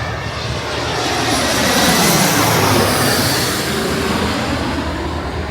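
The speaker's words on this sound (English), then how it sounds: "the planes come right over your head, like this one right here" A fixed-wing airplane passes low overhead while arriving on the main runway, its loud, steady engine roar swelling to a peak and easing slightly without fading away.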